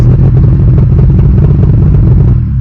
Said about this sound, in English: this thing's so damn loud because I've got part of the exhaust off